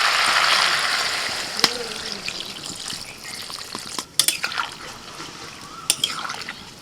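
Water poured into a pot of chicken stew, a close rushing splash that tapers off, followed by a few sharp knocks and clinks of utensils on the pot.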